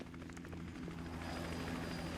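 A helicopter in the video game GTA Online, its rotor thumping in a steady rhythmic chop over a low engine drone, heard fairly close and continuous with no talk.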